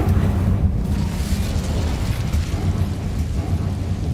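Incendio fire spell cast in the Hogwarts Legacy game, a loud, continuous low roaring whoosh of flame with rumbling texture throughout.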